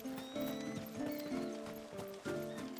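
In Final Fantasy XVI, horses clop in a steady rhythm and one whinnies, clear against sustained game music.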